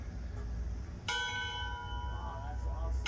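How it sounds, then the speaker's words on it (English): A steam locomotive's bell rings out once with a bright, sustained metallic clang that slowly decays, heard outdoors in Bensenville, Illinois over low background rumble. "Pull the rope. Ring that bell."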